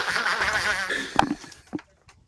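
A person with a cold blows their nose into an open microphone during an Arma 3 military-sim voice chat, a short wet honking burst close to the mic, followed by a few faint scraps of sound.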